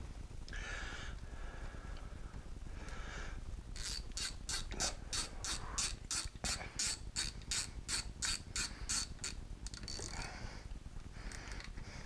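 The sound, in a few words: bolt being installed on lathe control handle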